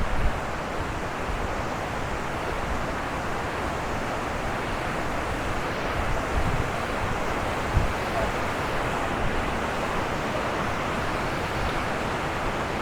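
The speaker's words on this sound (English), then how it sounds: "And there we have the rapids." River rapids beside the Kinney Lake trail near Mount Robson, a steady loud roar of rushing whitewater that fills the whole clip without letting up, with no voices over it.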